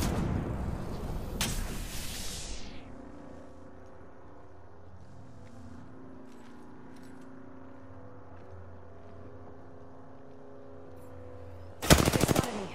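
Gunfire in a console shooter is aimed at the player. A loud, close burst opens the clip, followed by a long low hum with faint distant shots, and another sharp burst of fire comes near the end.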